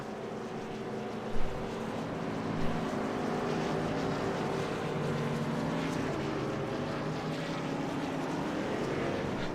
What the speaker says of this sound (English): getting it revved up just a little bit in those engines